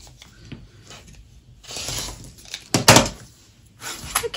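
Fabric on a quilt block being trimmed, heard as a few short, close scraping and clicking bursts with quiet pauses between them and no talking.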